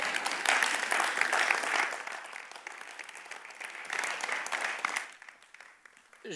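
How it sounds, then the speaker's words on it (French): Audience at a storytelling performance applauding: a full burst of clapping that swells, eases a little, rises again, then thins out and fades toward the end. "Puis là, vous l'applaudissez,"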